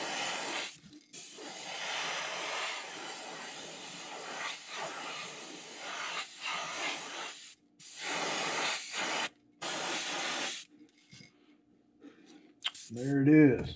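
An airbrush sprays paint onto a fishing lure, hissing in several bursts of varying length separated by short pauses. A voice comes in briefly at the end.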